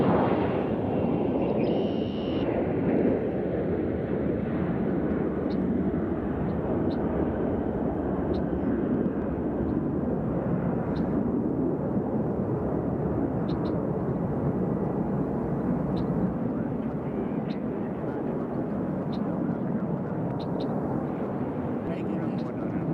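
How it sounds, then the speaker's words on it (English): An American Eagle regional airliner departs Nashville International Airport, giving a steady, loud broadband roar that holds for the whole stretch, with people talking over it. "Here goes an American Eagle headed out."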